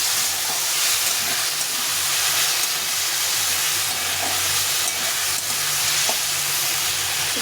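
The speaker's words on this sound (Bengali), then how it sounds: "এই মশলাটা দিয়ে আবার কিছুক্ষণ ভালো করে কষিয়ে দিতে হবে।" A spice mix is sautéed with a fish head in a pan, making a constant loud sizzle with occasional scraping stirs over several seconds and no talk.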